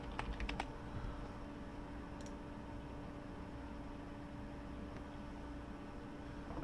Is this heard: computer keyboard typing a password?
yes